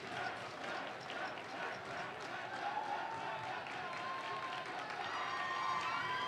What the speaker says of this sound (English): Crowd getting loud, trying to distract Dennis on the baseline.